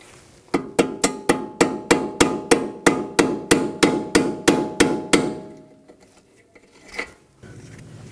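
A hammer strikes a punch about twenty times in a steady, loud, ringing metallic rhythm, driving a stuck bolt out of a 2004–2009 Audi A4 Quattro front upper control arm; a few scattered clanks follow after it stops.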